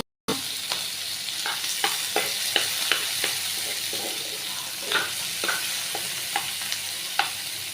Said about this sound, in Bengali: এই যে তেলটা গরম হয়েছে এখন পেঁয়াজগুলো দিয়ে